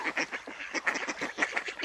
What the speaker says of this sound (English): And a lot of ducks still following me.